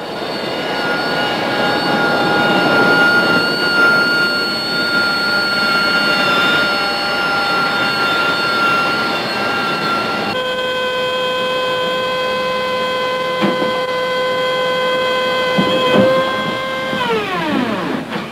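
A Harrier jump jet engine: a loud, steady jet roar with high whining tones that hold, then shift and finally sweep downward as the engine spools.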